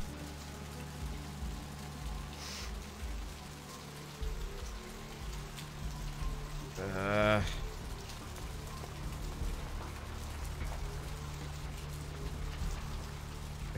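Steady rain in the video game Vampire The Masquerade: Bloodlines, a continuous hiss of drops on surfaces at moderate level, with a low ambient hum and a short rising tonal blip midway, no talk.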